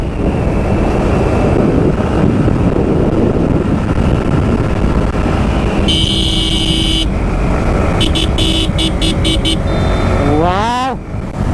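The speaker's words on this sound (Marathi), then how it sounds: "तर लय मजा येऊ राहिली बाईक चालवायला" A motorbike rides along a smooth road near hills and a waterfall close to Nashik. Steady loud engine and wind rumble run throughout, with a tonal horn-like burst, several short beeps and a rising-falling sweep near the end.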